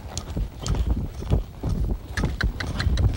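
Horse hooves hit dry ground during a sliding stop in a reining maneuver, a series of close, irregular thuds and scuffs amid wind noise.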